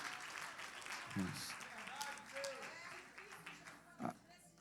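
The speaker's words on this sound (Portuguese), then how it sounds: "dê uma salva de palmas para o Senhor, porque Ele merece" Church congregation clapping in praise during a Portuguese-language sermon, a dense wash of applause mixed with scattered voices and shouts in a reverberant hall.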